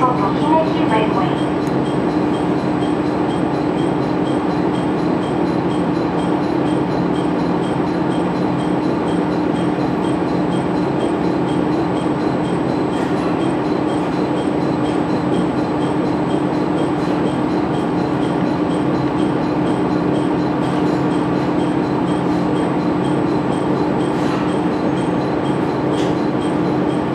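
Inside a local train running on the Nihonkai-Hisui Line between Itoigawa and Tomari, a loud, steady rumble and drone of the moving carriage goes on throughout, with faint rail clicks and an announcement voice over it.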